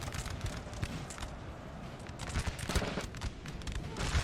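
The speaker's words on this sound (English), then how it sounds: "The howitzer is still firing." Howitzer artillery firing in a Napoleonic Total War 3 battle at Essling: dull, distant booms and cracks over a continuous rumbling battlefield din, with scattered gunfire and bustle throughout.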